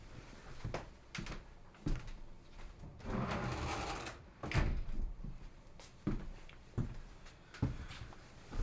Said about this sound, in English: I've got to close this door.